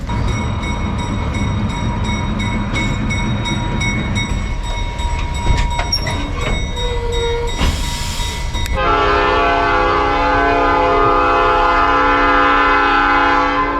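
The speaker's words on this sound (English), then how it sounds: "Gotta get on the train, guys." A historic excursion train in Metamora, Indiana rumbles and clatters nearby, with brief metallic screeches, then a loud sustained horn blares for the last several seconds.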